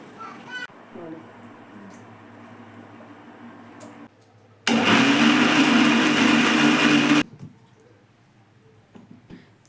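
Mixer grinder blending rasam paste in a home kitchen, a loud harsh whir running for about two and a half seconds, with quieter household sounds and voices before and after it.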